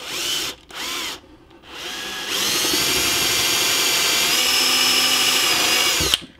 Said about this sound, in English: So instead of using a normal twist drill bit, I'm gonna use these step bits.